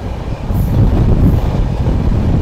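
The Shantiniketan Express rounds a right-hand curve after leaving Khana Junction for Bolpur, a loud, close, continuous low rumble of coaches on the rails with wind rushing past, and no one speaking.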